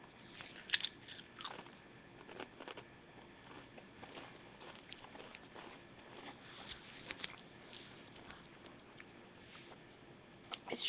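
Pringles bacon-flavoured chips crunch softly between the teeth, a faint, close series of irregular crisp bites and chewing clicks over a quiet background with no talk.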